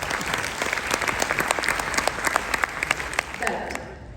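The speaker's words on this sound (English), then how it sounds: "Let's give a big round of applause" Audience at an international yoga conference gives a big round of applause, steady crowd clapping with sharp individual claps standing out, tapering toward the end, with some voices mixed in.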